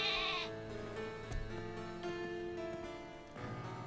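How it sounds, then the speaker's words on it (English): A sheep-like Pokemon cry from Pokemon Sword rings out as a loud, sustained bleating call with a wavering tone over game music, lasting most of the few seconds. "It is a sheep sound, but they have it slightly different than just straight up a sheep sound"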